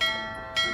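A bell is struck twice, each strike a bright, sustained ringing tone that lingers and decays slowly, with no other sound around it.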